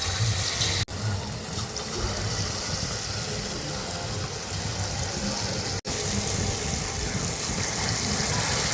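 Ripe mango batter fritters sizzle in hot oil, dropped in small portions like palm fritters; a steady, close frying hiss runs throughout, broken by two brief dips.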